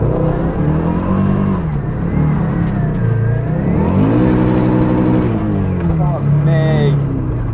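A Nissan 350Z engine drones loudly with sweeping pitch changes as it revs up and down on the rev limiter, a voice talking over it near the end.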